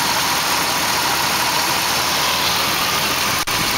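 A Dodge Ram engine idles steadily with the AC compressor clutch engaged, a dense continuous mechanical hum and whir that stays loud and even throughout with no talking.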